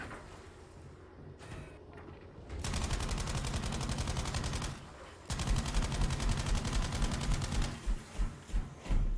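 Sustained automatic gunfire in the video game Battlefield 5 drums steadily in two long bursts separated by a brief pause, with muffled shots and clatter before the first burst.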